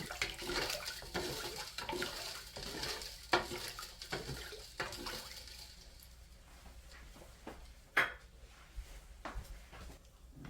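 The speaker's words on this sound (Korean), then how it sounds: "1숟가락, 2숟가락, 3숟가락 완전히 녹여가지고 동치미에다 부어줄 거예요." Dissolved sea-salt brine poured into a container of dongchimi radish kimchi, a steady watery splashing pour that thins out, followed by a few faint clinks and knocks.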